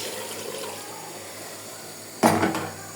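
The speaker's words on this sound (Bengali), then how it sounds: "পানিটা প্রেসার কুকারে দিয়ে দিলাম।" Water splashes briefly into a pressure cooker holding braised beef and jackfruit. The short, close gush comes at the end, after a quiet kitchen background.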